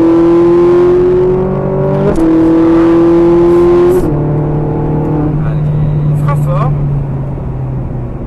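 A Ferrari F458 accelerates hard on a race track, its engine note climbing in loud rising sweeps with two upshifts before easing off, close and dominant, while an instructor talks over it.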